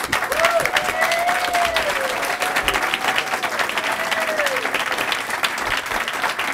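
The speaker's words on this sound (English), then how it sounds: "can you all stand up one more time for a round of applause" A school board meeting audience gives a loud standing round of applause, dense and continuous throughout. A faint tonal whistle-like sound drifts over the clapping.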